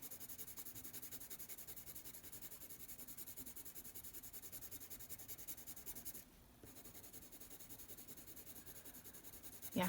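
A budget colored pencil scratches rapidly back and forth across paper in a steady, close, soft rubbing rhythm, with one brief pause partway through before the coloring strokes resume.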